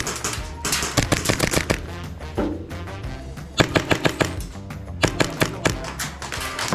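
Airsoft guns fire during an outdoor game, rapid volleys of sharp snapping shots coming in clustered bursts with brief gaps between, loud and close.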